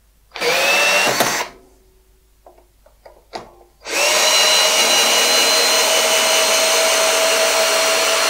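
A Makita HP457DWE cordless drill-driver whirs loudly and close in two long runs, the first brief and the second sustained to the end, with a quiet gap of small clicks and handling noises between them.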